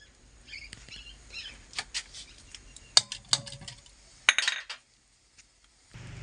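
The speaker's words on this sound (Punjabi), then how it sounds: "ਬੇਸਣ ਨੂੰ ਆਪਾਂ ਚੰਗੀ ਤਰ੍ਹਾਂ ਦਹੀਂ ਦੇ ਵਿੱਚ ਮਿਕਸ ਕਰ ਲੈਣੇ ਆ" Gram flour being mixed into yogurt in a bowl, heard as irregular clinks and scrapes of a utensil against the bowl, quiet and close, with a short pause before a final scrape.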